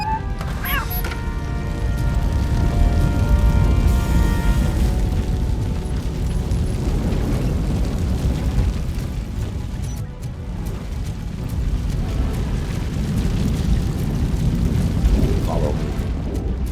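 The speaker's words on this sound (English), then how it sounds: "Fire is blocking the way." Fire roars as a steady, loud, dense rumble blocking a passage in the video game Robocop: Rogue City, with crashes and bursts layered over it throughout and game voices speaking in places.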